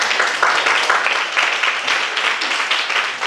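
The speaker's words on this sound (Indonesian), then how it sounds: "untuk menambah semangat kita tepuk tangan dulu ya" Students in a classroom clap together in a dense, steady burst of applause that stays loud and even for a few seconds, with no voices standing out above it.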